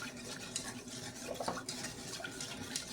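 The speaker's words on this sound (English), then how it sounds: "So what I'm going to do is I'm going to start whisking this." Egg yolk mixture with cornstarch being whisked in a bowl, a quiet, continuous rapid scraping and clinking of the whisk close by, with no talking.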